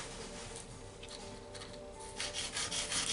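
A small silver barrette piece rubbed back and forth on sandpaper, a soft, close, gritty scratching in repeated strokes that grows a little louder toward the end, with no talk.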